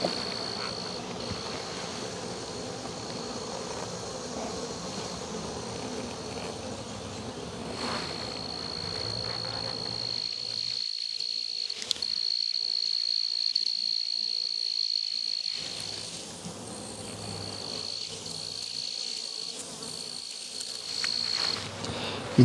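Honey bees buzz steadily around a queenless beehive, a dense droning hum with a sustained higher whine, moderately close and continuous, with brief quieter moments and no talking.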